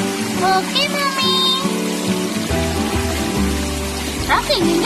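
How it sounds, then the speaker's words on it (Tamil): Steady rushing, splashing water pours from a village pump set throughout, with children talking and calling out over it nearby. "இங்க தண்ணி கொட்டுற சவுண்ட் கேக்குதுல?"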